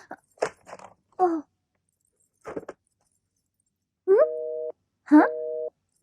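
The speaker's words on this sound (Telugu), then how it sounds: "ఏంటి కొయ్యని శబ్దం వస్తుంది? ఎవరు మాట్లాడట్లేదు. Phone cut అయిపోయిందేమో" Two short electronic busy-signal beeps sound after a few brief clicks and scrapes, with silence between them.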